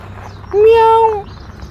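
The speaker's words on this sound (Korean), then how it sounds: "귀여운 고양이들이 있습니다." A single drawn-out meow from a cat close by, clear and tonal, against faint background noise, beside a church in Hilo, Hawaii.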